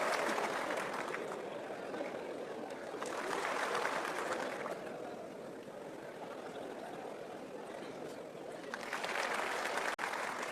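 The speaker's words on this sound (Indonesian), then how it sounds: "ini semua tepuk tangan nih guys. Ini lebih keras ini." Audience applause at a public ceremony, a dense, sustained wash of clapping from a large crowd that swells louder around the middle and again near the end.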